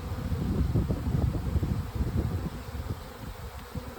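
A honeybee swarm drones in a dense, close, continuous buzz while being moved into a resource hive, the hum swelling and easing slightly throughout.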